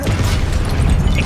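A Confringo fire spell blast in Hogwarts Legacy on PS5, a loud, dense, sustained rumbling burst filling the whole moment with no voices.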